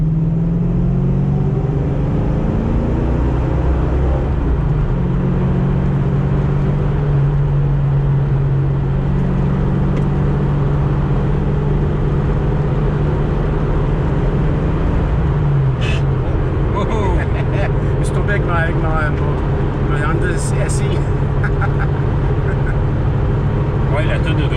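A 1986 Ford Mustang Fox Body convertible accelerating, steady engine drone and road rumble from inside the car rising in pitch, with tire and wind noise building toward the end.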